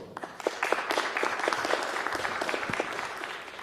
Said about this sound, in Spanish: los recibimos con un fuerte aplauso